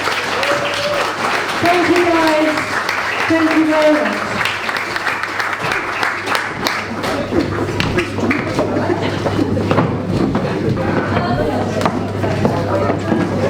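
A reunion audience applauds a choir with loud, sustained clapping that swells and fills the room for several seconds, while a voice speaks over the opening moments.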